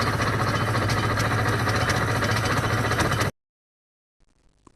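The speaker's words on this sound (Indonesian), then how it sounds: "Cukup pakai sebuah kartu kecil dan mesin 2 taknya langsung hidup." A Honda NSR 250 two-stroke motorcycle engine running with a loud, dense, buzzing drone that cuts off abruptly after about three seconds, followed by near silence and a faint trailing noise.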